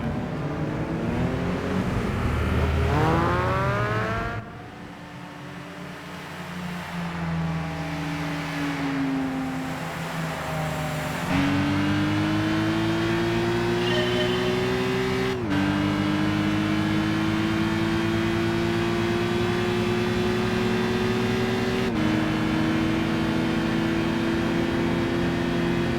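A race car engine in Gran Turismo 5 revs and shifts through gears, its tone climbing and dropping across several upshifts, loud and continuous, with no talking over it.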